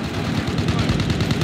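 Rapid automatic gunfire in the Warzone video game, a loud, continuous burst of shots with faint voices mixed underneath.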